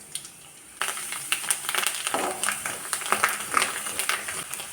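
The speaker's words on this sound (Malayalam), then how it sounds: "അരിയെല്ലാം പൊട്ടി വന്നു." Rice grains crackle and pop in hot coconut oil with mustard seeds in a pan while a Kerala thoran is being made, a dense burst of sharp close crackles starting abruptly and continuing without pause.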